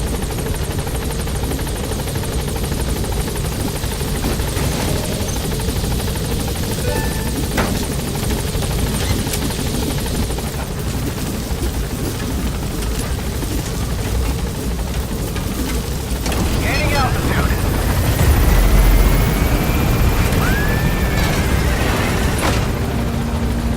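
Support helicopter in Metal Gear Solid V: The Phantom Pain, a steady, loud rotor and engine drone that holds throughout and swells near the end as it closes in, with rumbling game sounds mixed in.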